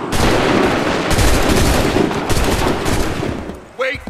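Volleys of musket fire from soldiers in Assassin's Creed 3, a dense, loud continuous crackle of overlapping shots lasting about four seconds, with a brief shouted voice near the end.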